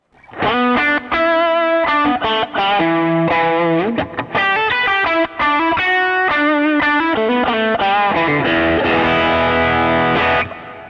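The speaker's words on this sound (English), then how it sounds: "Here's a little tube screamer action." Electric guitar through a Tube Screamer overdrive pedal into a 1968 Fender Twin Reverb amp, playing rapid riffs and chords that end in a long ringing strummed chord; loud, close, no voices.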